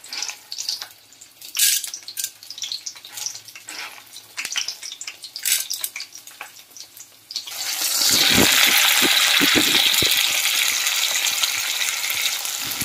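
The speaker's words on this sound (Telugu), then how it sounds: "సో ఇప్పుడు వీటిని ఫ్రై చేసుకోవడం కోసం సో హీట్ ఎక్కిన ఆయిల్లో నేను ఇక్కడ" Chopped tomatoes and green chillies drop into hot oil in a pan already holding brinjals, bursting into a loud continuous sizzle after several seconds of quieter clatter and handling noises.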